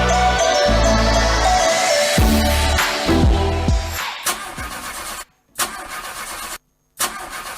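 Car engine cranking and starting in a Lagos radio advert, loud and close, with a whine and rumble that turns over several times before sputtering out, followed by short clipped bursts separated by dead silence.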